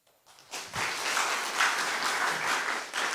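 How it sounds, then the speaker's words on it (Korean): Congregation applauding during a Korean church Sunday morning worship service, a dense burst of clapping that swells in after a brief quiet start and holds steady and full to the end. "박수 한번 쳐주세요."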